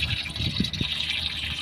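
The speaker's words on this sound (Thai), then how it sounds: "นี่เราถ่ายน้ำให้เขาใหม่เปลี่ยนน้" Water is poured and changed in a breeding tub for golden apple snails, giving a steady close gush of running liquid with faint splashes throughout.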